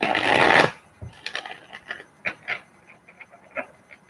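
Tarot cards are shuffled in a brief burst of riffling, followed by a scattered run of soft taps and flicks as cards are handled and laid down, close and quiet.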